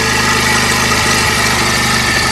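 A Bajaj Pulsar 125 BS6 motorcycle engine idles close and loud in a steady, even rhythmic chug with slight vibration and no change in pace, with no voices present.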